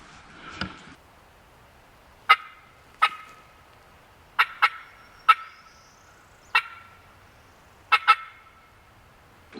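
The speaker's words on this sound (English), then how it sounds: "Turkey gobbled." A wild turkey gobbler in Georgia woods gobbles repeatedly from a moderate distance across a drain, sharp rattling bursts coming in irregular pairs and singles, about seven calls standing alone over quiet background.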